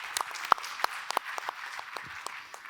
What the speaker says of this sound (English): Please, an applause for the team and for Ben